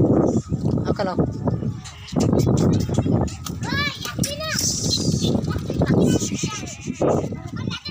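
Tapri goats bleat loudly and close by in a farm pen, with several wavering cries in a row while people talk over them.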